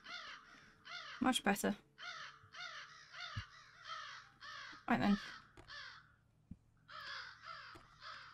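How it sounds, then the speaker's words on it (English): Crows caw repeatedly in the video game Sense: A Cyberpunk Ghost Story, a loud run of harsh calls in uneven bursts with a few sharp thuds, while someone speaks briefly over them. "Let's not bother the crows this time."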